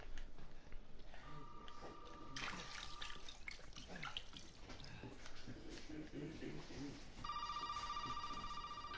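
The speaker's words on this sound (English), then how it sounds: "Getting a phone call." A phone ringing with an incoming call, two ringing bursts, one early and one at the end, over a noisy background with running-water-like hiss and loud clatter in between.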